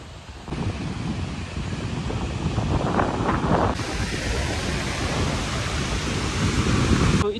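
Sissu waterfall in Lahaul Spiti rushes in a dense, constant roar close by, mixed with buffeting wind hitting the microphone and spray blowing onto the lens.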